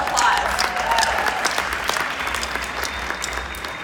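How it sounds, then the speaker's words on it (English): A conference crowd in Las Vegas claps steadily in dense, sustained applause that slowly tapers, with a faint voice briefly audible over it. "Give them another round of applause."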